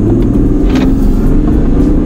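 A BMW Z4 accelerates hard with the throttle floored, heard from inside as a loud, continuous engine rumble and drone over a short burst.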